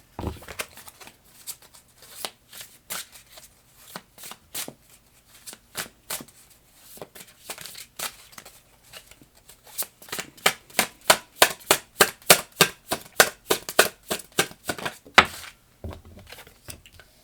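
A deck of tarot cards being shuffled, a run of crisp riffling flutters and taps that grow denser and louder in the second half, with no talking.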